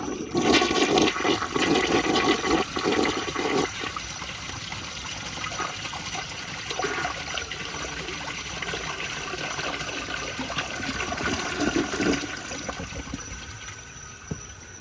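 A 1978 American Standard Cadet toilet flushing, opening with a loud rushing gush that eases into a long trickle and tank refill, close and continuous with no talking.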